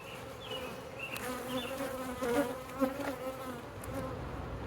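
Honey bees drone steadily around hive supers heavy with capped honey, a close, continuous buzz with small swells as individual bees pass near, and no talking.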